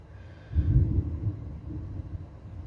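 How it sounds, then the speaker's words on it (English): Low thunder rumbles and swells after a brief quiet start, rolling on at moderate loudness with no voices over it. "Ooh, some good thunder."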